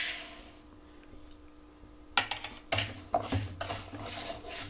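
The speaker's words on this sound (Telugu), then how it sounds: "పెసరపప్పు, బియ్యం వేయించుకోవాలండి" Moong dal and rice dry-roasting in a pan, quiet at first, then a spoon scrapes and stirs the grains with sharp clinks and rattling against the metal, near and uneven in rhythm, no voices.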